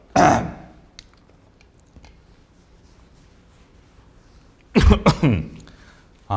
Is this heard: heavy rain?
no